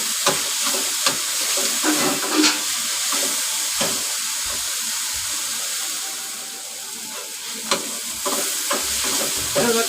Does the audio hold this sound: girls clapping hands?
no